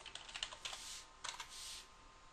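A password typed on a computer keyboard: a quick run of soft, close key clicks in two short bursts, quiet and alone with no talking.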